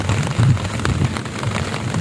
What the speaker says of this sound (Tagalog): Ito yung isa sa pinaka gusto ko rin na umuulan.